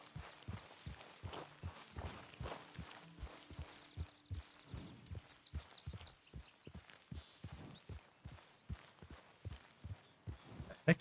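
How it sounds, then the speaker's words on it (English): A horse's hooves clip-clop steadily in a video game, a quiet, evenly paced walking rhythm of soft thuds running the whole stretch, with faint background tones. "What the heck is up with this horse?"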